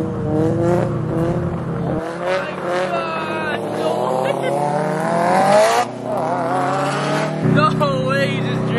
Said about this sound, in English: he just drifted that whole intersection.